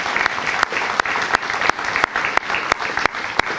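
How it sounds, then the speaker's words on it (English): An audience at a county scholarship awards event applauds, giving a steady, dense burst of clapping for just under four seconds with sharp clicks cutting through. "Can we give them another round of applause?"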